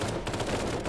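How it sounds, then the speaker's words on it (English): A second of dense, continuous machine gun fire from the Cepheus Protocol zombie warfare game, several weapons overlapping into a steady rattling roar. "Those MGs are really opening up."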